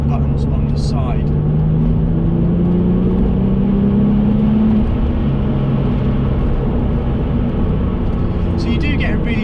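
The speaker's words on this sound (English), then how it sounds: "you do get a really nice sort of whoosh and progressive turbo noise from the car" A Porsche 911 996 Turbo cruises with a continuous low engine drone and a rising, whistling turbo whoosh that builds and fades. A few faint clicks appear at the start and end.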